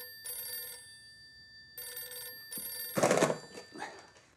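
A telephone bell rings in bursts on a cartoon children's programme, sounding clear and close with a steady repeating trill, followed by a soft thunk as the receiver is picked up.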